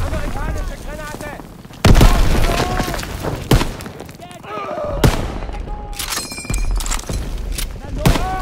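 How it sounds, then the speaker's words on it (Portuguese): Gunfire bursts and heavy explosive booms from a grenade thrown into a bunker in the World War II video game Call of Duty WWII, with repeated loud blasts and shots mixed with shouted voices. "Daniels, joga uma granada no bunker!"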